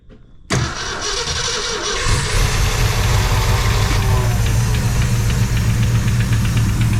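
A 1966 Ford Fairlane with a 390 FE V8 and four-speed, sitting unstarted for about 20 years, cranks and catches, then settles into a loud, rough, steady idle close by, with no talking.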